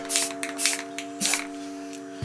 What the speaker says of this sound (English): I'm not just taking it and holding on to the spray paint can, just letting it go. I'm just hitting it.